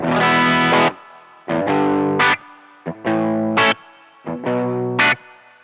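Overdriven electric guitar through a NuX Steel Singer pedal with amp reverb, playing four separate bursts of chords with pauses between, gritty and saturated with a touch of reverb tail; no voices.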